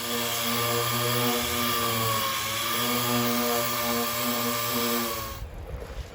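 Power tool fitted with a polycarbide abrasive wheel stripping paint, a loud steady whirring drone with strong tonal harmonics that holds for several seconds, then drops away abruptly near the end.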